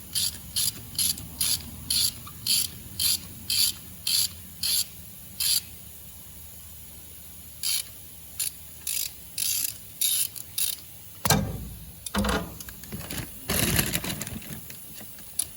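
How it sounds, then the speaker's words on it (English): A threaded-insert tool driving an insert into a freshly tapped hole in an engine part gives a steady run of crisp ratcheting clicks at an even pace, followed by rougher grinding and scraping turns near the end, close and without speech. "you just thread that insert right down in the hole you just tapped"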